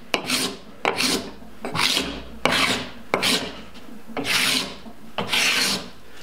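A cabinet scraper gripped by its handles and pushed with heavy downward pressure shaves long, even curls from a wooden board in six or seven loud, rasping strokes at a steady pace, each a close, rough scrape with short pauses between.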